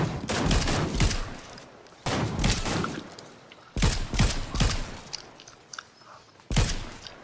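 Bursts of automatic gunfire from a video game firefight come in four loud volleys separated by brief pauses, close and dominant with no talk over them.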